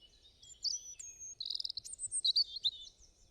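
Bird chirps in a Hindi cartoon story, a few bright high tweets and quick trills in short bursts, clear and alone against silence.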